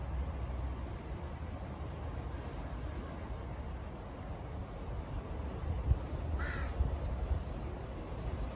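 Crows cawing recorded for foley, a few harsh distant calls scattered over a steady outdoor hiss, with one clearer, louder caw near the end.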